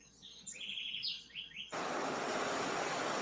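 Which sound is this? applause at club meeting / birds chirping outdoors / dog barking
birds chirping outdoors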